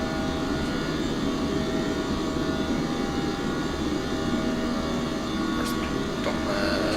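An airliner in a flight simulator game climbs out after takeoff, a steady loud jet engine roar with broadband rushing noise and no talk.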